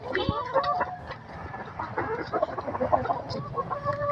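Backyard chickens and turkeys at feeding time, with clucking and short fowl calls over a busy, scratchy background of birds pecking at feed, close and moderately loud.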